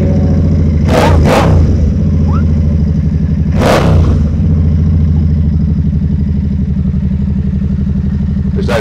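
A motorcycle engine runs loud and close with a steady throbbing drone, punctuated by a few sharp revving bursts early on.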